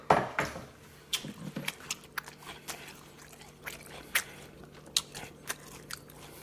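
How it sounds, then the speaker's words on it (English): Cooked green beans, eaten hot at home, give close, crisp crunches in irregular bites, with sharp snaps followed by quieter chewing and no speech. "You hear that crunch?"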